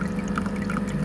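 Small waterfall trickling from a filter hidden behind bamboo in a moss terrarium for a salamander enclosure, a steady close dribble and pour of water running on without pause.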